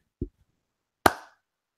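A single sharp hand clap rings out loud and close in a quiet room, preceded by a small faint knock, with no voices around it.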